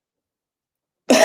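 A single short cough comes abruptly at the very end after a second of silence, close and fairly loud.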